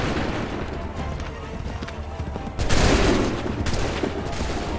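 A volley of musket fire from a line of soldiers in the video game Assassin's Creed 3, set in Montreal, bursts in loudly partway through over a dense battle din, with further crackling shots trailing after.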